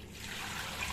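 Green olives rinsed under running water, a steady close trickling splash filling a brief moment with no voices.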